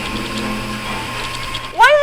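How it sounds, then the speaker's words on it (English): A UFO enemy in the video game Bubsy 3D gives off a steady droning whir like a blow dryer, continuous and fairly loud, with a short rising sweep near the end. "you'll actually find this UFO enemy that sounds like a blow dryer"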